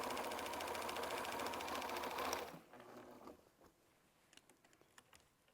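A sewing machine runs steadily while stitching a strip quilt, a fast, even mechanical whir up close that stops after about two seconds, followed by faint handling clicks and rustles.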